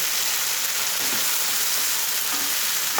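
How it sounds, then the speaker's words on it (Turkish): Tomato sauce hits a hot pan for a zucchini and minced meat dish and is stirred in, producing a loud, steady, close sizzle with faint scraping underneath. "Domates sosumu döküyorum. Bunu da güzel karıştırıyorum."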